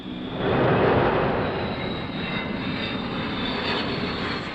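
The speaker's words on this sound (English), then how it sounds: "Comet 1, powered by 4 de Havilland Ghost 50 turbojets" A de Havilland Comet 1 jet airliner with four Ghost 50 turbojets, a loud, steady broadband roar that swells early and then holds evenly throughout, with no voices.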